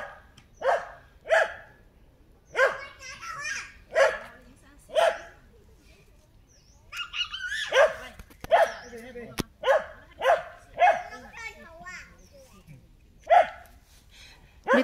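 A dog barks repeatedly in loud, spaced bursts near a nature trail in sweet gum woods by a reservoir, with people talking at times between and over the barks.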